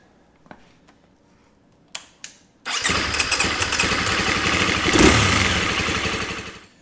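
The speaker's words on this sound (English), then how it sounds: "I'm gonna start the bike up, let it warm up, get it up to operating temperature" A KTM 350 EXC-F dirt bike starts after a few clicks and brief starter bursts, then its engine catches and runs loud and steady, with a short rev swell before settling into warm-up idle.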